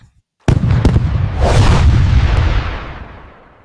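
AI-generated fireworks sound from Google Veo3 in Canva: a sharp opening boom, then further bursts and a dense crackling, rumbling fallout that slowly fades, loud and close with no voices.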